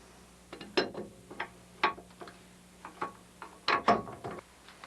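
A lubricated output shaft is fitted into the back of a transmission case, giving scattered faint metallic clicks, taps and scrapes in irregular bursts against a quiet background.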